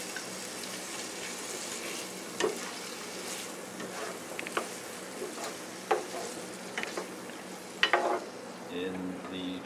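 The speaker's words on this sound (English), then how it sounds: "And we're just going to grill and saute this stuff" Chorizo, jalapenos and other ingredients sauté in a pan with a quiet, continuous sizzle, broken by a few sharp scrapes and clinks of stirring.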